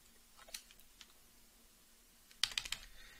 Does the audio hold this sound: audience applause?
no